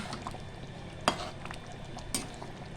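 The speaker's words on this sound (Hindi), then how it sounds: "इसको क्रीम को थोड़ा मिक्स कर लेते हैं।" A spoon stirs cream into a cooking dish in a pan, soft scraping and gentle sizzle with a couple of sharp clinks against the pot, no voices.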